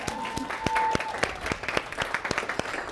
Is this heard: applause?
yes